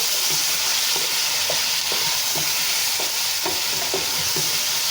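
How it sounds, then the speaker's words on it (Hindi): Steady, dense sizzling of chicken frying in a hot pan with garlic and ginger, with a few soft stirring scrapes and taps over the continuous hiss. "चिकन को अच्छी तरह से हम फ्राई कर लेंगे।"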